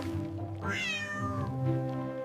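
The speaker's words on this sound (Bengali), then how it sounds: "ফেনায় ঢাকা লালুকে দেখে বুঝাই যাচ্ছিল না বিড়াল নাকি তুলো" A foam-covered cat meows during a bath in a bathroom, giving one drawn-out, rising then falling cry, close and clear, with no voices.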